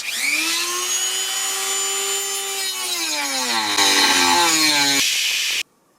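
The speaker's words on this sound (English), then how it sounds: "So we're going to use the Dremel, and hopefully we come out with a square cut." A Dremel rotary tool cuts into a wooden bed face inside a Sprinter van conversion, a loud high whining grind that holds steady, drops in pitch as it bites, then cuts off abruptly.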